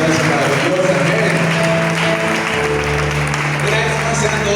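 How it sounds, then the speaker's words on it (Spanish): A church congregation claps together at an evening service, a loud, dense and steady roar of applause that runs the whole way through, with a sustained musical tone underneath. "Den una fuerte ofrenda de aplausos al Rey de Reyes, Señor de Señores, en esta noche maravillosa."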